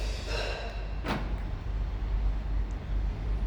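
A Toyota Estima ACR50 minivan's door locks release with a single short clunk outdoors. Steady low rumble and wind-like noise sit underneath.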